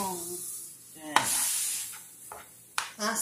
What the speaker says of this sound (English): I sauteed it.